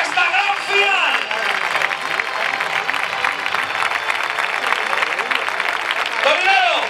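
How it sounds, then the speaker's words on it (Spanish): Sustained crowd applause at the final of a village bull-leaping contest, dense steady clapping that fills the whole stretch, with shouting voices from an announcer and spectators over the top. "Fuerte, fuerte, fuerte el aplauso"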